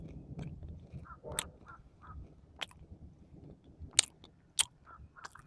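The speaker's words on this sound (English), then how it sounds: "And now I'm gonna go ahead and do a taste test of Boswellia neglecta." Someone chews hard Boswellia neglecta frankincense resin, producing close, quiet wet mouth sounds broken by several sharp crunching bites, with no talking.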